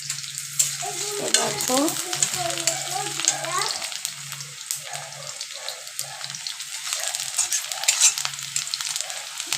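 Cubes of paneer sizzle and crackle loudly in a hot pan for a home-style Bengali recipe, a steady close fry while someone speaks briefly over it.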